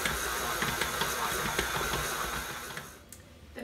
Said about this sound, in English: And with my paddle attachment, I'm going to mix this until it's nice and creamy.